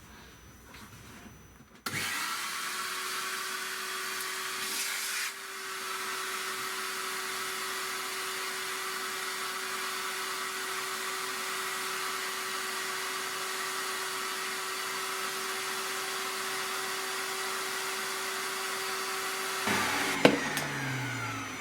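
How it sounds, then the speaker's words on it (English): A shop vac runs steadily while cleaning the cooling vanes of a freezer, a loud continuous whine starting abruptly after a quiet moment, a brief change in tone midway, then cutting off near the end. "just a couple of minutes with a vacuum cleaner and a small paintbrush"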